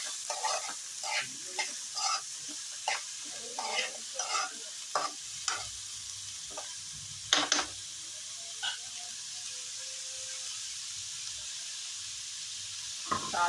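Onions frying in a pan for an onion curry, with a soft continuous sizzle broken by repeated scraping clicks from a stirring spoon, close and fairly quiet, no speech.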